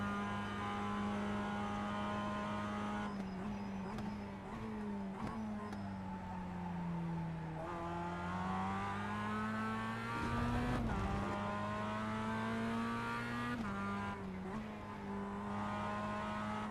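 An MX5 race car in the iRacing game at Phillip Island revs up and down through the gears, a steady engine whine rising and falling with a brief tire squeal midway, with no talking.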